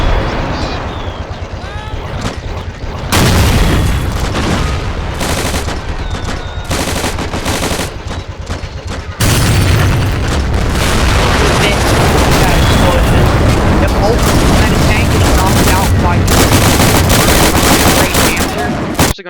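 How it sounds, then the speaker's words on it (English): Howitzer blasts and sustained gunfire from the Plastic Army Men video game, a loud, dense battle barrage of rapid shots and booms that swells louder partway through, with a voice talking over it. "This howitzer is not fired a shot yet, so I'm actually going to get it to fire"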